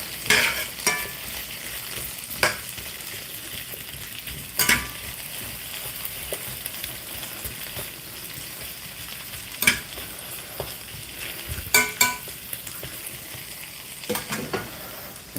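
Hash browns frying in a pan with onions while being stirred and mixed, a steady close sizzle broken by several sharp scrapes and clinks from the spatula, with no voices.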